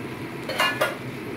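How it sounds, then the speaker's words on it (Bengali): Fried potatoes are stirred into a simmering mutton curry in a pan, giving a soft sizzle with two quick, close scrapes of the spoon. "এবার আমি ভেজে রাখা আলুগুলো দিয়ে দিচ্ছি"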